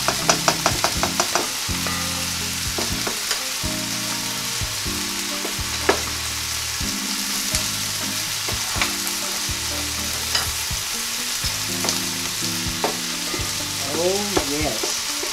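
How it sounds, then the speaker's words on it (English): Sautéed vegetables crackle and hiss continuously in a hot cast iron skillet, with occasional scraping stirs and clicks over a steady background melody, and no one speaking. "Check our sauteed vegetables."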